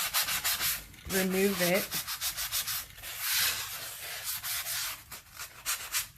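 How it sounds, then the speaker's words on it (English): A soft sanding block rubs across a painted rock in steady back-and-forth strokes, a close, dry scratchy rasp that continues throughout, with a brief spoken phrase partway through. "is just a soft sanding block or sanding, I don't know what it's called"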